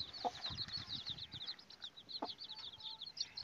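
Guinea fowl chicks peep in rapid, high, repeated chirps that run as a steady stream, faint and close, with a couple of lower clucks mixed in.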